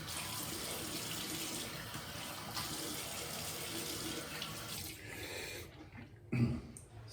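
Water runs steadily from a tap while a straight razor is rinsed, a close continuous splashing stream that thins out near the end with a brief knock.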